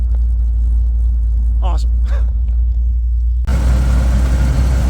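An Iroc Z Camaro's 305 V8, smoking and leaking at the manifold, idles with a steady low rumble close by, with a person speaking over it and a sudden louder surge near the end.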